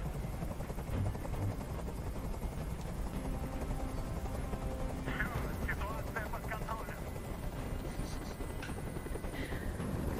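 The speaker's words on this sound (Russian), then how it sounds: "Прикажи им, чтобы вертолет убрался!" A helicopter hovers in the video game Detroit: Become Human, its steady rotor drone continuous and fairly loud throughout, with faint game sounds underneath.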